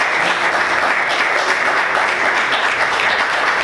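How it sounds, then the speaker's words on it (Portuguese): Church congregation clapping loudly together during a worship service, a thick continuous wall of applause close and full throughout with no break. "Vamos aplaudir o Senhor bem forte"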